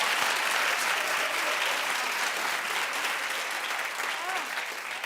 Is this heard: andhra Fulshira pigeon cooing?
no